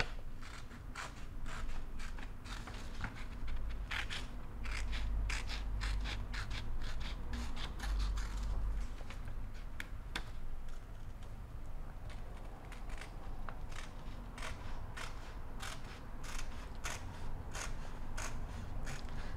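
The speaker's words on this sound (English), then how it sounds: "this is an occasion for the large scissors to cut out bigger objects" Large scissors cut paper for a collage, a run of repeated crisp snips and rustling slices close by, steady and unhurried with no voices.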